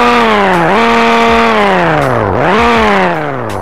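A Jaguar F-Type in the Bloxwow game revs hard twice, its loud engine pitch climbing, dipping briefly between blips, then rising again before easing off slightly at the end.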